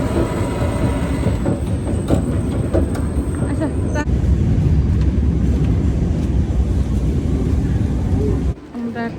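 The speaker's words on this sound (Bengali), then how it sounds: "একটা অনেক বড় স্টেশন আমরা ট্রেন থেকে নেমে এখন ট্রামে যাবো" A large train station at La Défense in Paris: a steady, loud broadband rumble of trains and station machinery fills the whole stretch, with voices murmuring in the background and a brief drop in level near the end.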